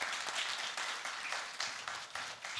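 Applause from an audience at a book presentation honouring poet and teacher Salomat Nurullayeva, heard as a quiet, steady patter of many hands clapping with slight swells in intensity.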